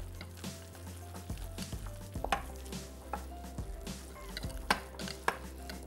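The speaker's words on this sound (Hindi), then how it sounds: "तकरीबन 4 से 5 टेबल स्पून खुश्क मैदा, और इसको हमने मिक्स कर लेना है" Dry flour, roughly four to five tablespoons, worked into a thick batter until it turns doughy; soft, close stirring and slapping with scattered sharper knocks against the bowl, fairly quiet and without speech.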